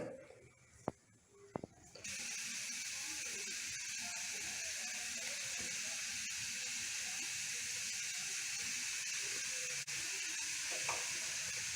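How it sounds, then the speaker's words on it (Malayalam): Kara sev dough pressed into hot oil bursts into a loud, steady frying hiss after a couple of sharp clicks from the press, continuing evenly throughout. "നമ്മുടെ എണ്ണ ചൂടായിട്ടുണ്ട് നമുക്ക് മാവ് ഇതിലോട്ട് വെച്ച് ഒന്ന് പ്രസ് ചെയ്ത്"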